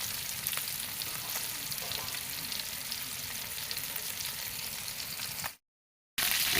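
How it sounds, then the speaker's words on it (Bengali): Rohu fish pieces fry steadily in hot oil in a wok, a dense, even crackling sizzle heard close up and without voices, cutting out briefly before resuming at the end. "আমরা একটা একটা করে মাছগুলো তেল গরম হওয়ার পরে দিয়ে দিয়েছি।"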